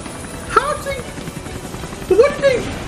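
Helicopter rotor chop from a Death Battle animation of Lara Croft versus Nathan Drake plays under excited speech, with short voiced exclamations breaking in twice over a steady background.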